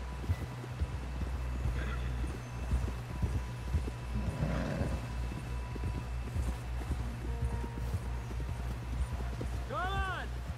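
Horse galloping in the video game Red Dead Redemption 2, rapid rhythmic hoofbeats throughout with a snort and a neigh near the end, mixed with game music and a speaking voice.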